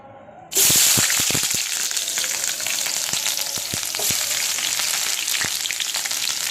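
Oil sizzles and fries steadily in a pan on a lit stove, a loud continuous hiss beginning abruptly and holding, with occasional light clicks and stirring knocks.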